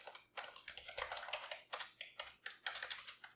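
Rapid, close keystrokes on a computer keyboard come in quick bursts with brief pauses, crisp and fairly quiet, with no talk.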